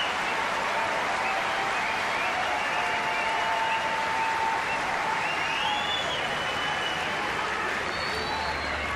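A tennis crowd at a 2005 Montreal semifinal applauds and cheers for Andre Agassi as he serves for the match, a sustained, dense wash of clapping and voices that stays loud throughout.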